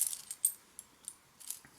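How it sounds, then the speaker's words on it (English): A bunch of metal keys from an everyday-carry kit clinks in a few light, scattered jingles, quiet and close, with soft gaps between the bursts. "Keys"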